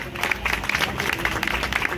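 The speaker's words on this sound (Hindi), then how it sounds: "यहाँ पे तालियाँ चाहिए" A crowd claps in sustained applause at a jewellery store grand opening in a Noida mall, busy and slightly uneven, with some murmuring voices mixed in.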